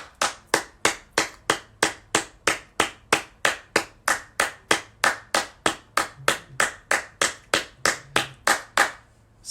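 Rhythmic audience clapping in unison for the youth, about twenty-five loud, evenly spaced claps in quick succession, close and alone without speech.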